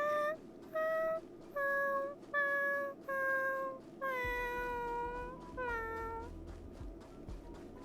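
A cat in the Honkai: Star Rail video game meows repeatedly, several clear, evenly spaced cries followed by longer, drawn-out wails, close and loud, later over a low rumbling background.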